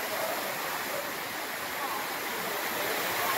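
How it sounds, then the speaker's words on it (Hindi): Heavy rain pours down onto a train and floods the platform at Chittorgarh Junction, a steady, dense broadband rush of falling water that is loud and continuous throughout with no pause. "ट्रेन पे तो पानी गिर रहा है और यहाँ भी पानी आ रहा है"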